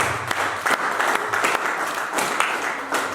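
A church congregation breaks into loud, dense applause acclaiming the Lord, a continuous close wash of many hands clapping.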